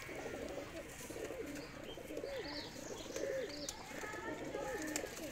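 Teddy pigeons cooing in a loft setup, repeated soft rolling coos over steady background noise and faint other birds, with some quiet voices around.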